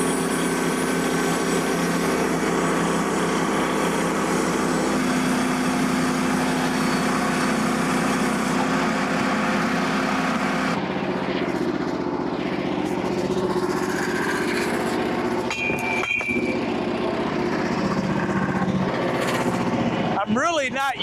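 The new engine power unit of a Frontier OS27 sawmill runs continuously and close by with a loud, droning mechanical hum, shifting in tone partway through, while cedar logs are being milled.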